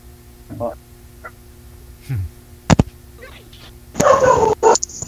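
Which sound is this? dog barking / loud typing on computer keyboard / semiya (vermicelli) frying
dog barking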